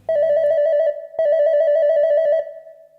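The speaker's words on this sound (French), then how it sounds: "elle appela Monsieur Papa avec son téléphone portable" A mobile phone rings close and loud with a trilling electronic tone in two bursts separated by a brief pause, the second fading out at the end.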